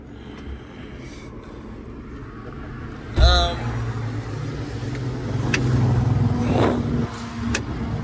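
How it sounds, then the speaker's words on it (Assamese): A Mahindra Bolero's engine, with the bonnet open, cranks and catches partway through, then settles into a steady, close idle hum with faint background noise. "মই বনেটটো খুলি ষ্টাৰ্ট কৰি গাড়ীখন দেখাই আছোঁ।"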